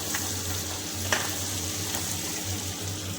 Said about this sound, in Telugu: ఉప్పు, పసుపు, కారం వేసి బాగా వేయించుకోవాలి.